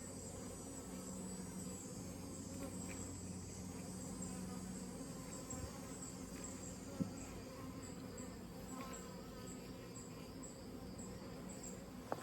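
Bees buzz busily around the entrance of a 24-frame Layens horizontal hive on a summer day, a steady, fairly faint insect hum with occasional closer fly-bys and small clicks.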